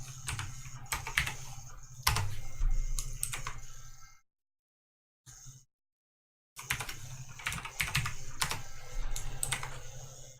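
Rapid clicking of a computer keyboard being typed on, steady bursts of keystrokes close up, broken by a brief stretch of silence before typing resumes.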